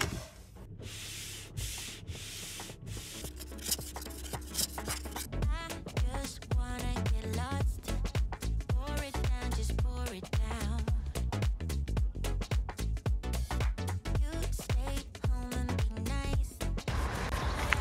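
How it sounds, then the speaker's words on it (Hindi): Car windshield wipers sweep back and forth across the glass on a cold, windy night, giving a steady series of rubbing, squeaky strokes at a regular rhythm with no talking. "the wipers can help."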